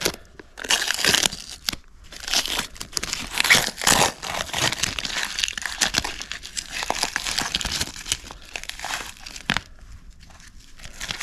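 Masking material is peeled and crumpled off a Cerakoted carburetor finished in burnt bronze, giving close, irregular crinkling and tearing rustles that continue in bursts throughout.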